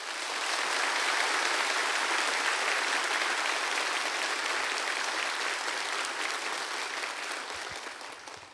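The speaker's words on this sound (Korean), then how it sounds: "큰 박수로 환영으로 맞이하시겠습니다" A church congregation at Yeouido Baptist Church's anniversary revival meeting gives a guest pastor a big welcoming round of applause, steady, full and sustained, tapering slightly near the end.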